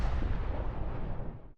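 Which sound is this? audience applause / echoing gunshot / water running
echoing gunshot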